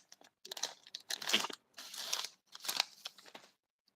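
A bag of long chips crinkles up close as it is handled and put back, with several short bursts of rustling plastic and brief pauses between them.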